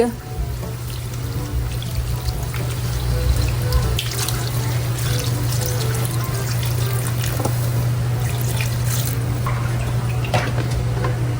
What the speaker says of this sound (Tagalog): Dadagdagan ko pa po ito ng tubig.